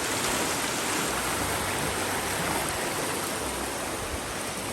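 A brownish river swollen after rain rushes past in a dense, steady roar of flowing water, loud and unbroken throughout.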